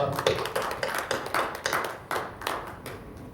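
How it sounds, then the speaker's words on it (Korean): A handful of people clapping at a committee meeting, sparse and uneven claps with a slightly irregular rhythm, fairly quiet and close. "박수로 격려해 주시기 바랍니다"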